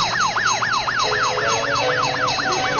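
Cartoon fire truck sirens wail loudly in a fast repeating rise-and-fall pattern, with a second siren layered in, over a steady background rumble.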